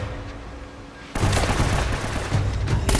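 A sudden burst of rapid, loud gunfire in the video game Uncharted: Drake's Fortune breaks out after a quieter moment and continues as dense automatic shooting.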